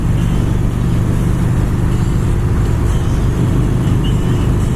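A 2016 Harley-Davidson Roadster motorcycle pulls away smoothly from takeoff, its engine a loud, steady low rumble throughout with constant wind rush and no voices.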